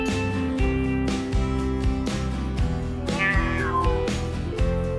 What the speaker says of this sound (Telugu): పిల్లి పిలిచింది, పాండా వింది.